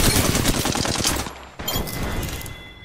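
Rapid automatic gunfire rattles loudly in a fast stream of shots during a battle royale firefight, ending abruptly, then lighter scattered firing continues at a lower level.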